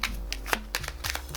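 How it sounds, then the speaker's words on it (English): Tarot cards are shuffled by hand in a quick burst of crisp riffling and flicking snaps, close and brief, with no speech. "Let's pull another card here."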